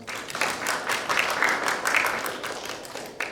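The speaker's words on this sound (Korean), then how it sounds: "다시 한번 박수 드립니다" A room full of listeners at an academic conference session applauds a presentation, with dense, steady clapping that rises slightly in the middle and then tapers off.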